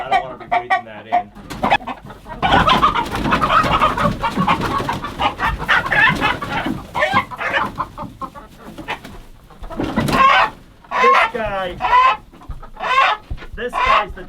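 Chickens on a homestead squawk, cluck and flap their wings loudly and close by while being handled, with feathers flying; bursts of agitated calls come in irregular clusters, growing sharper toward the end.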